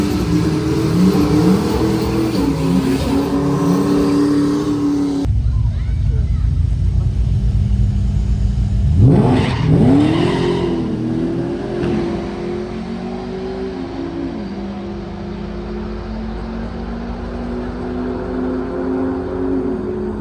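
A Ford FG XR6 Turbo launches in a drag race, its engine droning loud and steady, then a sharp rev sweeps up near the middle before the pull settles back into a sustained roar to the end.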